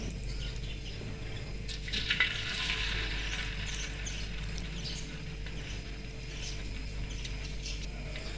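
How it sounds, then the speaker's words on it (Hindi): Pakoras frying in hot oil for kadhi pakora, giving a steady, soft sizzle and crackle over a low background hum, with no talking. "ऑयल हमारा गर्म हो चुका है, अब इसमें डालेंगे पकौड़े"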